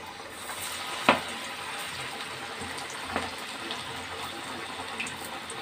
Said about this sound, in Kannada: ಹೀಗೆ ಇದನ್ನು ಒತ್ತಿ ಎಣ್ಣೆಗೆ ಬಿಡುವಂಥದ್ದು ವಡೆ ಹಾಕಿದ ತಕ್ಷಣ ಅದಕ್ಕೆ ಸ್ಪೂನ್ ಹಾಕೋಕ್ಕೆ ಹೋಗಬೇಡಿ